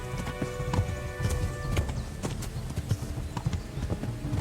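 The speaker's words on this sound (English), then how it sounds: "When riding, you can give your horse its head and it will stick to the path you're on" Horse hooves clip-clop steadily at a riding pace in the medieval open-world game Kingdom Come: Deliverance 2, close and continuous with faint ambient background.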